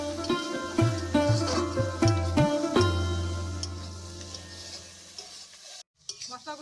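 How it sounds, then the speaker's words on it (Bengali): Spices including chilli powder and ginger-garlic paste sizzle in a hot pan while a utensil stirs and scrapes in quick repeated strokes, then the sizzling settles to a quieter hiss. "মশলাগুলো এখন ভালো করে ভেজে নিতে হবে"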